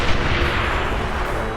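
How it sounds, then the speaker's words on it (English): Steady barrage of artillery fire from a toy war battle, a dense continuous rumble of overlapping booms with no breaks, loud and close throughout. "I hear that comes the artillery. Yep. Artillery."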